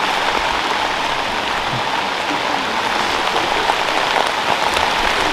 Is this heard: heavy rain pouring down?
yes